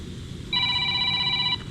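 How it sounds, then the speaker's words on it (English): A telephone rings in a garage workshop where aluminum wheels are being repaired, one clear electronic trill lasting about a second over low background noise, fairly close and with no talk. "Another phone call."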